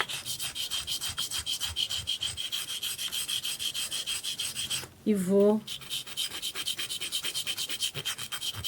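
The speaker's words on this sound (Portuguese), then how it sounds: "E aí eu vou lixando toda a volta dela, pra ela ficar mais retinha" Rapid back-and-forth rasping of hand sanding around the edge of a wetted mosaic piece, close and steady, briefly interrupted by a short spoken phrase midway before the scrubbing resumes.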